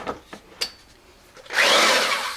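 A Sawzall reciprocating saw cuts a pinewood derby wood block clamped in a vise: a few light taps and knocks of handling, then the saw bursts in loud and close, a harsh steady buzzing cut continuing to the end.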